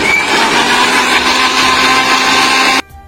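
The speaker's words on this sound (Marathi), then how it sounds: "आता आपण पुन्हा एकदा हे मिश्रण एकदा मिक्सरवरून फिरवून घेणार आहोत." An electric mixer blends chocolate ice cream into a brownie milkshake, a loud steady whir that runs continuously for nearly three seconds, then cuts off abruptly into near silence.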